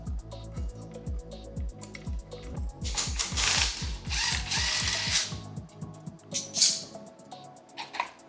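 A ratchet wrench loosens the clutch bolt on a Honda Navi scooter, with rapid rhythmic pawl clicking up close, broken by louder metallic scraping bursts midway and a few scattered clanks toward the end.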